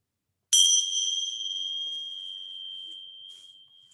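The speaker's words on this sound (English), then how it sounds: "The bell that reawakens, brings us into the present moment, reminds us of who we are." A meditation bell at a slow yoga session is struck once after a short silence, giving a bright, clear ring that slowly fades away, alone and close.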